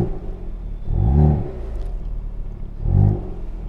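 A 2022 Hyundai Kona N engine idles with two distinct revs, each swelling and dropping back, the second shorter, with a steady low rumble between.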